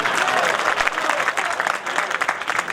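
Dense, lively clapping from a large crowd at an outdoor kavi sammelan poetry gathering, loud and continuous with uneven bursts throughout and no talk.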